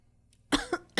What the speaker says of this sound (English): Definition: a sudden forceful expulsion of air from the lungs.